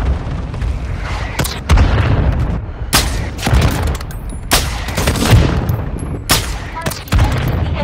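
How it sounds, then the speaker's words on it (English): Mortar strike explosions and gunfire in Warzone Mobile, heavy booms landing every second or so among rapid shots and machine-gun bursts, loud and close, with faint voice chatter in places. "Hostile mortar strike incoming."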